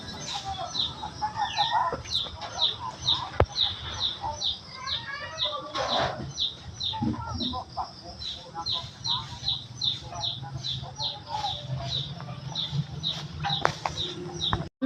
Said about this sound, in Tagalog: Nagtugtong na ng among mga manok mga inday.